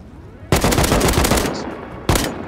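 AK rifle gunfire in a survival game raid near a stone-walled base, with a loud close burst of rapid automatic shots lasting about a second, then a brief pause and another short burst.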